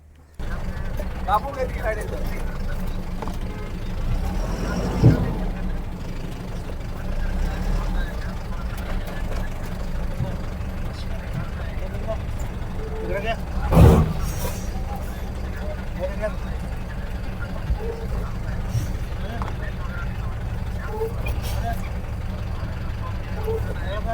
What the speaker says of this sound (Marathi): आता गाड्या पूर्ण रिव्हर्समध्ये आणावं लागतात बोटीमध्ये